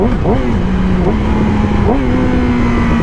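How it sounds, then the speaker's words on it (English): A motorcycle engine revs up in quick blips as the rider rev-matches through downshifts while approaching a red light, a loud steady drone rising sharply three times between gears, heard close up. "Right now I'm in a high gear, red light's coming up, I need to rev match a couple gears"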